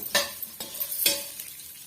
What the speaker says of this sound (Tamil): சேர்த்துட்டு நல்லா வந்து வதக்கி விட்டுக்குங்க